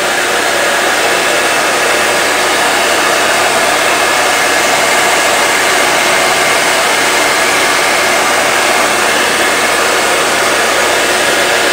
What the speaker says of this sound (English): This gun is not precise, so it's spreading heat all around it as well.